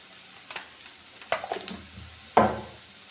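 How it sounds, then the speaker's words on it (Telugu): Salted okra fry in a pan, stirred with a few scraping strokes over a faint, quiet sizzle, with irregular clinks and a sharper stir near the end. "సాల్ట్ చల్లుకొని ఓసారి ఇలా కలిగి తిప్పుకోండి."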